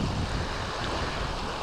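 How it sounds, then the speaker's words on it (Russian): Strong wind rushes over a pond in stormy weather, a dense roaring gust buffeting the partly covered microphone with choppy water beneath, steady and loud throughout. "Вот такая вот погода сегодня. Ветрище."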